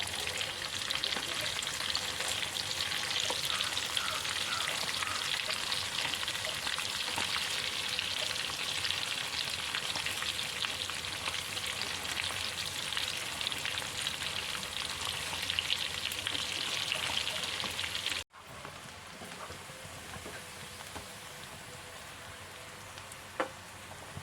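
Chilli chicken pieces fry in hot oil with a dense, continuous crackling sizzle, close and steady. The sizzle drops abruptly to a quieter hiss near the end. No one speaks.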